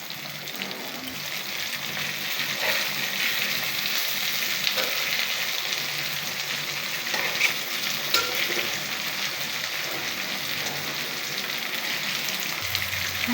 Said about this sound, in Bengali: বেগুনও ভাজা হয়ে যাবে, মাছও ভাজা হয়ে যাবে।